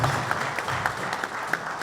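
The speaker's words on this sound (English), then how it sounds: "Members of ESCO, please rise for a round of applause" Members of a group stand at a conferment ceremony in Lagos while the hall fills with a brief, steady burst of applause, dense and moderately loud throughout.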